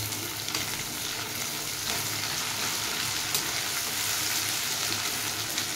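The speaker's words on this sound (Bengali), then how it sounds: "এতে টমেটোটা একটু নরম হয়ে আসা অবধি আমি এটাকে একটু ভেজে নেব।" Chopped tomato frying in a pan until it softens, a steady loud crackling sizzle throughout with light stirring scrapes, close and without speech.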